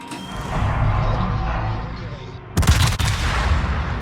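Naval guns firing aboard the French cruiser Saint-Louis in World of Warships, a sharp loud burst of heavy gunfire about two-thirds through, punching out over a steady droning game background.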